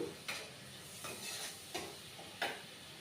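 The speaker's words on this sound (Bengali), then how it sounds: "এবার এর মধ্যে একটু ভালো করে কষিয়ে তারপরে পটলগুলো দিতে হবে।" Spice paste for doi potol sautés in a pan, giving a quiet, steady sizzle broken by a few soft stirring scrapes at irregular intervals.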